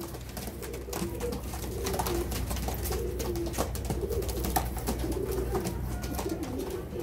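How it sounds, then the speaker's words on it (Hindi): Purebred pigeons coo repeatedly at close range, soft rolling calls overlapping in an uneven rhythm against faint background noise, with no talking. "ये प्योर कबूतर है जी"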